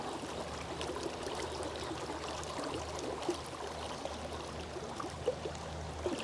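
A river running in a strong, steady flow, with a continuous broadband rush of water close by and faint small splashes and gurgles scattered through it, no voices.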